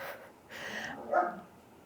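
A dog barks a few times indoors in a home with houseplants, short and moderately loud with a slightly muffled tone, heard without any speech.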